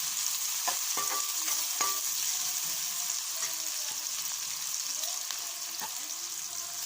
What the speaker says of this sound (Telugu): ఇవైతే ఫ్రై చేసుకోవాలి